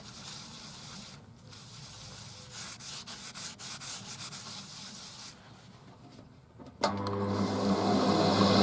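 Steady abrasive rubbing of sanding and polishing on a lattice insert held on centre pins, a continuous scratchy hiss that pauses briefly, then returns louder and more even near the end.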